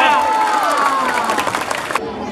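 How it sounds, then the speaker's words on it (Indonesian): Crowd applause and cheering at a community gathering in Pusong Lama, Lhokseumawe, with a former president attending, heard as dense clapping with voices and talk mixed in, fairly loud, cutting off sharply near the end. "Tepuk tangan Ibu."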